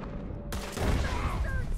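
Gunfire in the Western video game Red Dead Redemption 2, a quick sudden burst of shots kicking in partway through and carrying on loud and dense over a low rumbling game soundscape.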